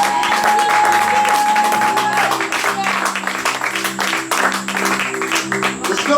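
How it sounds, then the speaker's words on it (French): A church congregation applauding, dense clapping from a crowd with sustained tones from accompanying music, loud and close, with a voice heard over it. "Acclamons comme pour Jésus ce soir."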